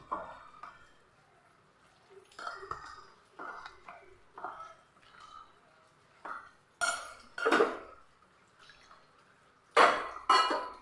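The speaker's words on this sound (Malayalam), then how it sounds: "ഒരു കപ്പ് വെള്ളം ഒഴിച്ച് നല്ലപോലെ ഒന്ന് മിക്സ് ചെയ്ത് എടുക്കാം" Wheat flour batter is mixed with water in a bowl, making irregular wet slapping and scraping strokes. Louder clinks of a spoon against the bowl come near the end, and no one speaks.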